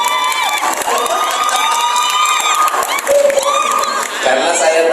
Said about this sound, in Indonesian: tepuk tangan yang pakai baju merah